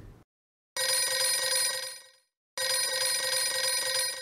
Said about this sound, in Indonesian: Baik, kita menunggu telepon tersambung dengan Bu Esti.